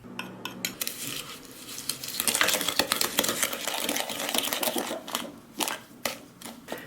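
A mixer beats cookie batter with vanilla and a flax mix in a bowl, giving a busy clattering whir with scraping bursts that swell and fade over several seconds, without talk.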